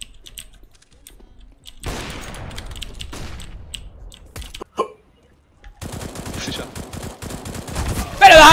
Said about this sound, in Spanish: Hay un tipo tirando tiros.